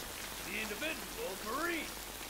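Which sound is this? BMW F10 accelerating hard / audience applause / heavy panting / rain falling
rain falling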